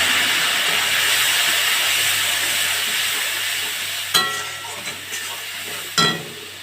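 Spiced shrimp in a hot pan hiss steadily with a broad sizzle for several seconds as a splash of water goes in, followed by two sharp clattering knocks near the end.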